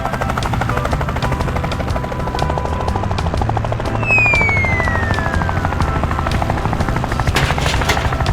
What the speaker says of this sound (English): The helicopter quickly delivered the fully assembled greenhouse to the monkey.